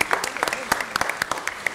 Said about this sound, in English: let's give them a round of applause for their citizens' participation